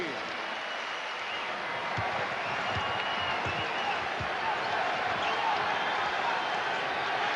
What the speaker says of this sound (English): The crowd reacting to the Knicks play.